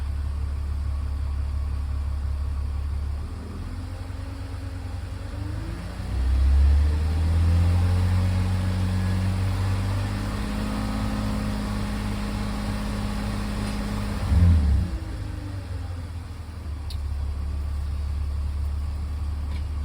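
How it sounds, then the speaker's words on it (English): A BMW E46 330ci engine idles, then revs up twice as the throttle is blipped, the pitch climbing and settling back to a steady, close idle hum each time, with no talking over it. "Let's see if I press the throttle a little bit."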